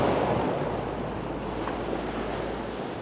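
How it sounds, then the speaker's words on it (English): Steady wind gusting over a shallow bay, a broad, continuous rushing roar with buffeting against the microphone, constant and fairly loud throughout. "Windy today, yeah."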